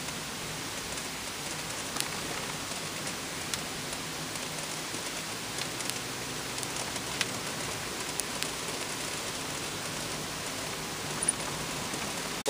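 Steady rain falls outdoors at a rainy bull roast rally at Camp Lutz, a constant broadband hiss with faint scattered drops throughout, no voices present.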